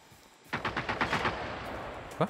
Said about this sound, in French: On se fait tirer dessus